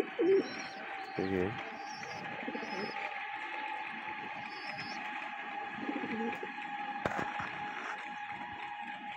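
Domestic pigeons coo in a loft during hot weather, soft repeated throaty coos close by over a steady background hum, with someone speaking briefly.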